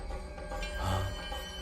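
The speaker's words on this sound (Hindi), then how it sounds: "ये ओमना बाथरूम में से फोन कर रहा है।" A telephone rings in a Hindi-dubbed movie scene, its bell steady and clear for a short moment with no talking.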